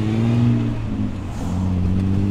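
A 1962 Austin Healey's straight-six engine revs and accelerates up close, a loud throaty drone rising and falling in pitch with a brief dip between gear changes.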